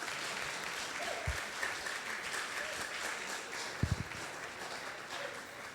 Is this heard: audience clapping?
yes